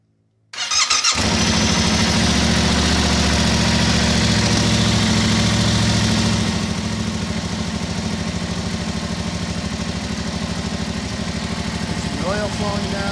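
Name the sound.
Yamaha R7 motorcycle engine starting and idling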